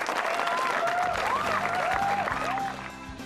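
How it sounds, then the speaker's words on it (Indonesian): Applause and cheering from a stand-up comedy audience, steady and loud for most of the clip, with a voice and whistle-like tones riding over it before it thins out near the end. "tepuk tangan untuk Indonesia"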